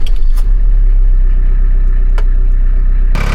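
A car engine runs at a loud, steady idle, a low constant drone throughout, with a couple of brief clicks or knocks near the start and end.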